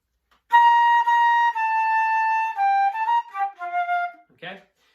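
A flute plays a short passage from the Armed Forces March at bar 49, starting on a long held note before stepping down through a few shorter articulated notes, clear and close with no accompaniment, and a brief breathy sound at the end.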